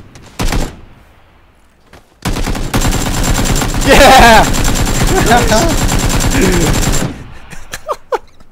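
Video game gunfire: one short burst, then a loud, sustained stretch of rapid automatic fire, trailing off into a few scattered shots and clicks at the end.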